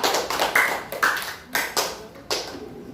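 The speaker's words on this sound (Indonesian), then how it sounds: "Tepuk tangan untuk kelompok 4." Students in a classroom clap for a group after its performance: several sharp, uneven claps with short gaps, close and fairly loud, with no talking.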